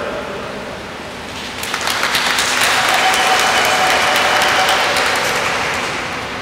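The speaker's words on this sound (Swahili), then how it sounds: "Na kwa kuwa mmepiga makofi" Congregation applauding inside a cathedral in Dar es Salaam during a Mass marking an anniversary of its consecration; dense clapping swells in after a quieter opening and sustains loudly with reverberant spread to the end.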